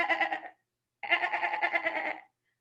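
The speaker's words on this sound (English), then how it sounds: "What does a goat say?" A goat bleats in two separate bursts, a short wavering call and then a longer quavering one after a brief pause, loud and close with no talk around it.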